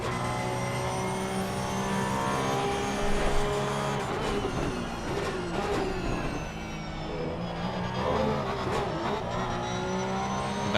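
Porsche Cup race car on a circuit, its engine loud and close with continuous high revving that rises and falls through gear changes and throttle lifts, with no voices.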